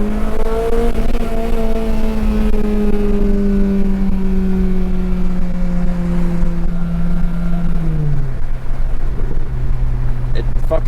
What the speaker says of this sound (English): Yeah, I love this exhaust though.